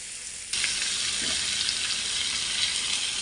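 Prawn masala with ginger-garlic-pepper paste and tomato sizzling and frying loudly in a pan, a steady close hiss that switches on abruptly and holds throughout, with no voices.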